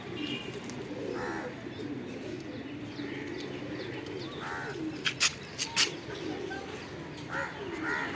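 Pigeons coo in a series of soft, low rounded calls, some sounding close and others farther off, over a steady background murmur, with a few short sharp clicks partway through.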